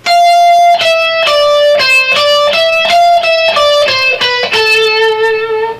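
An electric guitar plays a descending scale with alternate picking starting on a downstroke, distinct bright notes stepping down one after another at a moderate pace, loud and close with no talking.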